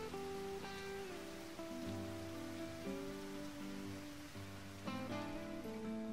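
Rain falling in the video game Final Fantasy 7 Crisis Core makes a steady, even hiss throughout. It sits under sustained game music chords, and nobody speaks.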